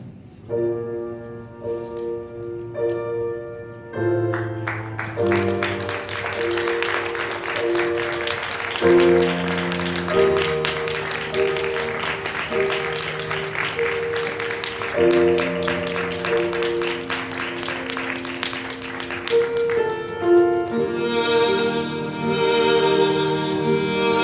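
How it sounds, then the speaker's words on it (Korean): Applause and cheering fill a wedding hall as the bride makes her entrance, a dense sustained wash of clapping under loud, steady ceremonial music that continues throughout. "큰 박수와 환호로 신부를 축하해 주시기 바랍니다"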